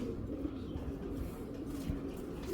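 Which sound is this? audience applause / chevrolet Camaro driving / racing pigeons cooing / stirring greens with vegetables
racing pigeons cooing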